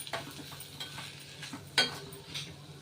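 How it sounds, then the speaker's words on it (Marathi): Kantoli (spiny gourd) vegetable bhaji with dal is stirred in a pan at home. A spoon makes soft, close scrapes and faint sizzling, with one sharper clink near the end. "भाजी हलवून घेतो आपण"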